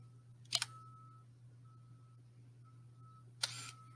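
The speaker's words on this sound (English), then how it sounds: "I'm going to have a slow shutter speed. I'm going to have it open and close for a whole 3 seconds." A single-lens reflex camera shutter set to a slow speed opens with a crisp mechanical click, a faint beep follows while it stays open, then it snaps shut about three seconds later over a low electrical hum.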